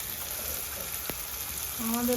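Ground spices (turmeric, cumin, coriander and salt) sizzle in hot oil in a pan for a dhaba-style egg dish, a steady close frying hiss with a brief sharper crackle building near the end, no talk.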